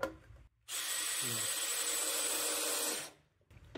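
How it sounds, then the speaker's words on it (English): Screws being driven into wood with a power drill while building a rack for bicycle frames and wheels: one steady, close whirring run of about two and a half seconds, with brief quiet before and after. "I'm trying to stagger the way these screws go in a little bit just to try and keep that wood from splitting too much."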